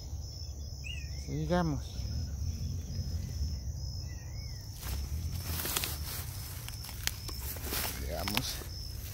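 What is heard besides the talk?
crickets chirping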